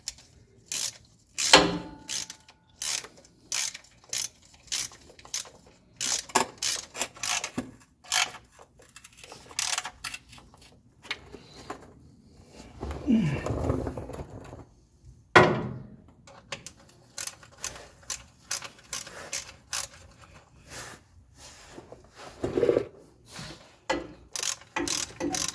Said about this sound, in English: I'm not torquing them at this point, I'm just snugging them up